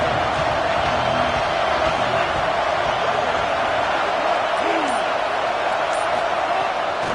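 A football stadium crowd at a Purdue game roars steadily and loudly, with scattered whoops rising out of the dense wash of noise from start to finish.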